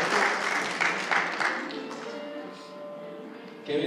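Church congregation at a Mother's Day celebration gives a short burst of applause that fades after a couple of seconds, leaving a quieter room with faint voices before a fresh swell of sound.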